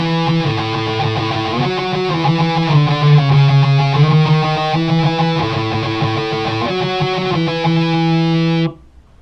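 Distorted electric guitar on a dirty channel plays a song's chorus as sustained single notes, loud and continuous, then cuts off abruptly near the end.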